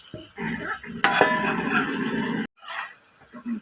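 Mushrooms tipped into a cooking pan already holding fried potatoes in a home kitchen: a sharp metallic clatter and scrape, brief sizzling, then softer stirring clinks against the pan, close and fairly quiet.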